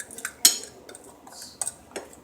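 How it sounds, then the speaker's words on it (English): Utensil clinking and scraping against a bowl while stirring seasoned tilapia fish, a few sharp close taps spaced out over a quiet background. "I'm going to stir this up"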